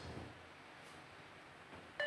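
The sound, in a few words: fitness bleep test beeps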